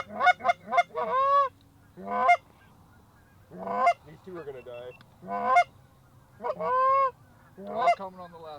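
Geese honk loudly and repeatedly during a Canada goose and duck hunt, bursts of close honking calls separated by short quiet gaps.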